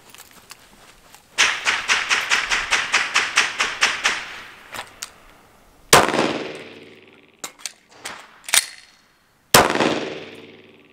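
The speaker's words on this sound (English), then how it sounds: "So you're gonna fire 2 shots on this training scenario." Pistol shots fired in a shooting drill: a rapid string of about fourteen sharp cracks, then several separate louder single shots with echoing tails and pauses between them.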